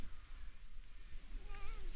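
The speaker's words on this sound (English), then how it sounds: "Got 2 kitties." A cat gives a short, rising meow near the end, standing out against a low background hum.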